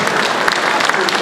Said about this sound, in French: Donc vous pouvez applaudir